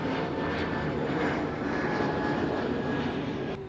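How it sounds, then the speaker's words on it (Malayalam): An airplane roars close overhead, a loud steady engine drone that fills the whole moment without any talking. "ഇത്ര അടുത്തൂടെ ഫ്ലൈറ്റ് പോകുന്നതാണ്"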